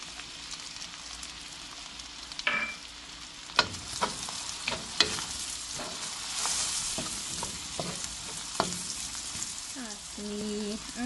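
Onion sautéing in a soup pot for a veggie soup gives a steady sizzle, overlaid with a run of sharp clicks and knocks from stirring and handling, and a brief tonal beep near the end.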